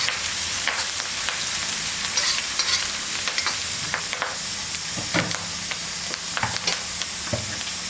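Sliced onions and curry leaves sizzle and fry in hot oil in a pan while being stirred, a steady close crackle and hiss broken by scraping stir strokes, with no talk.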